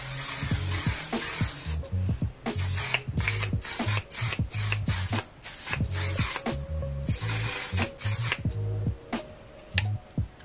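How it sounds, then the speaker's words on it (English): A can of makeup setting spray hisses out in short, loud, close bursts, broken by brief clattering pauses where the can is shaken between sprays. "I'm just gonna put on my setting spray"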